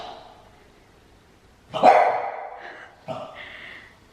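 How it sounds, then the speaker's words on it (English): A pet dog gives a loud bark burst followed by a second shorter bark, close by in a quiet home, with no talking over it. "What are you barking at?"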